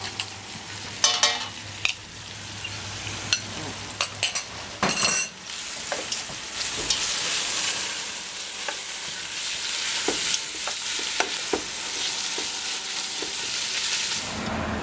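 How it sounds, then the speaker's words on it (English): Garlic sautéing in a pan with onions while preparing a French onion tart, a steady frying sizzle with stirring and occasional clinks of utensils against the pan, close and continuous. "We're going to add on the garlic in, And we're going to saute lightly the garlic."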